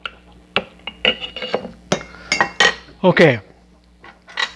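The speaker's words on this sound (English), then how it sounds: "Now to muddle, you're just kind of pressing down and turning" Basil leaves being muddled in a glass for a cocktail, a series of close clinks and knocks against glass, with a person briefly talking.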